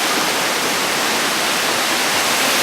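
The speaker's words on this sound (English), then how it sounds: "Quite a beautiful little waterfall." A small waterfall at the end of a jungle walk roars loudly and without a break, a dense rushing wash of falling water close by.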